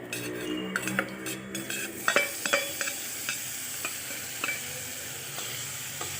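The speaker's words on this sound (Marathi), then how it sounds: "याला चांगलं तेलामध्ये कलसून घ्यायचं आहे" Ground chilies and cumin sizzle in hot oil while a spoon stirs and scrapes the pan, with several sharp clinks of metal against metal, close and fairly quiet, no talking.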